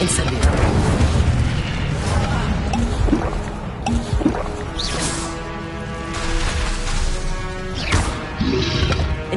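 Repeated Incendio fire spell blasts in a video game crackle and boom in quick bursts amid other game effects and tonal chimes, while a voice speaks between them.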